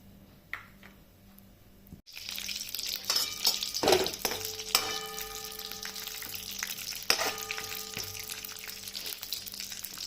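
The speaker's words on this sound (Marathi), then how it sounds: "ते काजू, बदाम आणि मनुके तुपात तळून घेऊ." Cashews, almonds and raisins fry in a spoonful of ghee in a kadhai, a quiet start that breaks into loud, crackling sizzle with clinks of a spoon stirring against the pan.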